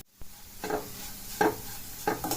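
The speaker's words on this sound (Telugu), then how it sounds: "మొత్తం అంతా కలిసే విధంగా కలుపుకోవాలి" Ground cumin, garlic and peanut powder is stirred into bitter gourd pieces in a pan, a few soft scraping strokes with light sizzling underneath.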